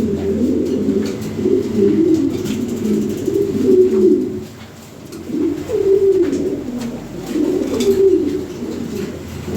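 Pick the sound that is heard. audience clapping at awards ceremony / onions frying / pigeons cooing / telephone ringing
pigeons cooing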